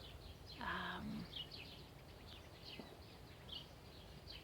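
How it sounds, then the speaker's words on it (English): Faint bird chirps and short calls scattered over a quiet outdoor background, distant and sparse. "You can hear the parakeets, the birds."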